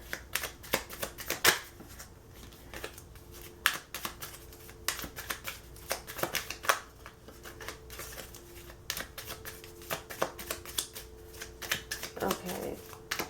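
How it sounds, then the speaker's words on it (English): A tarot deck is shuffled and cut by hand, quick crisp riffling card snaps and taps spread across the clip, close and fairly quiet, with someone speaking softly over them. "let me shuffle it, and then I'm gonna cut it."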